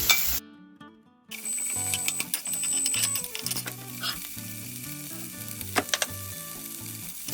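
Chopped onions sizzle steadily in a hot pan of coconut oil, with occasional clinks and stirring scrapes over faint background music.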